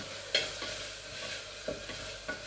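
Mixed vegetables go into a hot pan of tomatoes and sizzle steadily, with a few clear scraping strokes of a spoon stirring them at close range.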